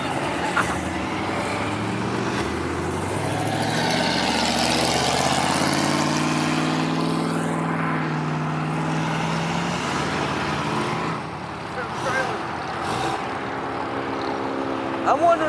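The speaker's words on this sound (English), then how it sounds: "Get on it, let's hear an SSR!" A Chevrolet SSR engine revs loudly at a car show cruise, swelling into a sustained roar that peaks midway and then fades, amid crowd noise and voices.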